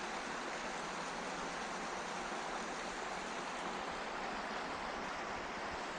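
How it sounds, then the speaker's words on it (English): Steady, broadband rush of water spilling down a garden pond waterfall, continuous and even with no pauses and no voices, filling the whole scene at moderate volume. "They have a couple nice waterfalls."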